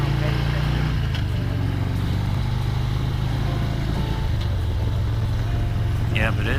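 Motorcycle cruising along curvy Kentucky Route 10, a steady low engine drone with wind rush throughout, under a rider talking.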